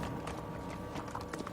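Horses' hooves clop steadily up a steep alpine trail, a continuous rhythmic clatter of steps under outdoor noise.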